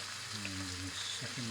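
A generous lot of butter fries in a pan for lemon sole, a soft continuous sizzle with a low background hum and faint tonal sounds in the kitchen.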